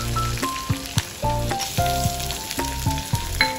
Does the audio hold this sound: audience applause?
no